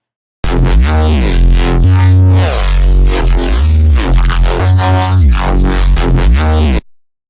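A heavy, distorted bass synth resynthesized from a kick drum, with deep booming low notes and a gritty, phased upper texture, loud and repeating in short phrases.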